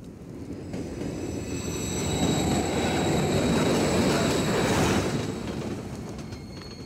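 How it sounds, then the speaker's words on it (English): A train rumbles past in Modern Warfare III, a dense roaring wash of wheels and rail noise that swells to a peak midway and then slowly fades, with faint squealing tones above. "Let's wait for the train one more time and then we'll go."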